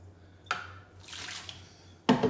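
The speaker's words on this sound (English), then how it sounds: "then you put this in the rinse thing. Rinse this up" Water splashes and runs as something is rinsed while making parmesan knots, with two short bursts of pouring and splashing separated by a softer trickle, over a low steady hum.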